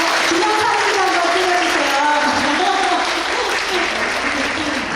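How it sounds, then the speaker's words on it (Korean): Loud, continuous applause at a Korean international school parents' general assembly in Hanoi, honoring the parents' association president; steady clapping filling the room with some voices mixed in. "우리 회장님의 열정과 노고에 감사드리며 큰 박수 부탁드립니다"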